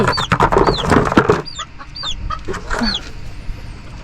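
Hens clucking up close with high peeping chicks scattered throughout, busy at first and then thinning to sparse chirps.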